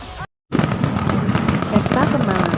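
Fireworks bursting in a loud, dense crackle of explosions that runs on after a brief silent gap, close and sustained, with no speech over it.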